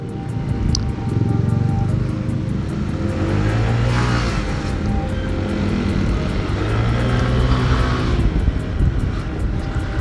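Honda PCX 160 scooter engine droning steadily while riding, fitted with 12-gram rollers, its note rising and falling slightly under broadband wind rush, with no talk.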